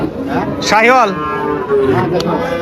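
Cattle at a busy livestock market where Sahiwal cows are on sale: one loud, close, drawn-out moo rising and falling, with other animals and the murmur of the crowd behind it.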